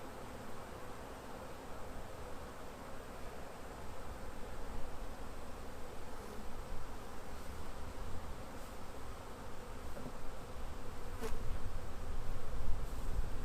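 Steady, dense buzzing of many honey bees at an open hive as frames are shaken, close and continuous, slowly swelling louder toward the end.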